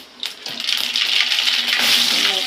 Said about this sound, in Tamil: எண்ணெய் காஞ்சிச்சு கடுகு போடுவோம்